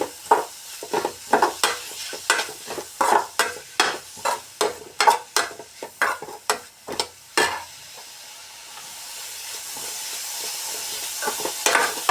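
Grated beetroot is mixed and fried in a pan: a series of rhythmic scraping stirs, roughly a dozen strokes, over a soft sizzle that continues alone and quieter once the stirring stops.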